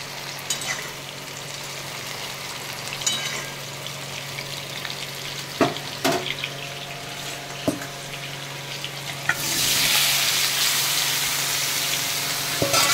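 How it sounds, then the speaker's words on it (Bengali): Constant crackling of potatoes frying in oil, with a few utensil knocks, then the sizzle swells into a loud hiss as more goes in. "এই তেলেই আমি আলুটা দিয়ে দেবো"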